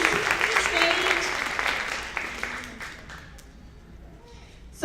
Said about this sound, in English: Big hand clap for all the poets as they prepare